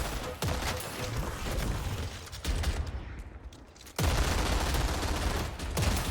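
Rapid gunfire from a hero shooting creeps in a competitive team shooter game, sounding as dense, continuous bursts of shots with brief dips and a sharp renewed volley midway.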